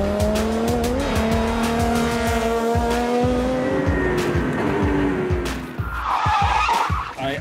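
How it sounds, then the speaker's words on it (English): Lotus race car on track braking hard into a chicane and spinning out after catching grass: engine drone with falling revs, then a long tyre squeal and skid as the car rotates, loud and near, no talk. "Under brakes going into the chicane, ended up with too much speed, caught a little bit of the grass, and then watched the world turn around."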